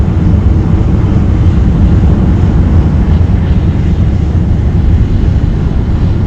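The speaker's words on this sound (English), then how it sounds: "There's a tracking shot of the rocket ascending from Cape Canaveral on its way to space." Astra rocket climbing from Cape Canaveral on the TROPICS-1 launch, heard as a loud, continuous low roar with heavy rumble and wind-like noise, steady throughout with no talk.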